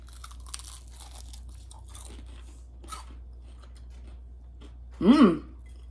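A single loud crunchy bite near the end, preceded by quiet chewing and faint clicks over a low hum.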